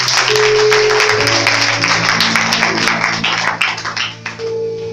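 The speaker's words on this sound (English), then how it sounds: "Clap hands for the Holy Spirit" A church congregation claps hands in worship, a dense steady patter of clapping over sustained keyboard or organ chords, fairly loud and continuous before easing slightly at the end.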